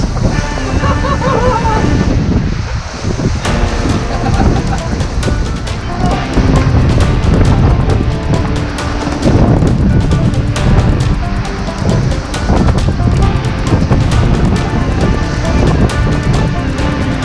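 Strong wind gusts roar steadily across the microphone aboard a sailboat at sea in a nasty storm, with waves surging and crashing beneath in a loud, continuous churning wash.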